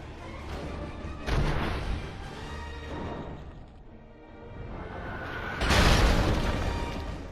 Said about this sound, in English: So we have the explosion to clear the stairwell